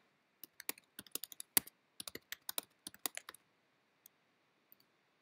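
Password keystrokes on a computer keyboard, a quick irregular burst of close, crisp key clicks that pauses briefly, then two or three final isolated taps, with no talking.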